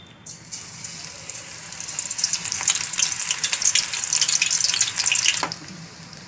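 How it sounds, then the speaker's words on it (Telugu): Spring onion pakodas drop into hot oil in a pan and sizzle loudly, the crackling frying swelling after the first moment and holding steady before cutting off near the end, close up and without speech. "ఇప్పుడు ప్యాన్లో ఆయిల్ పోసుకొని, ఆయిల్ హీట్ ఎక్కాక పకోడీలాగా వేసుకోవాలి."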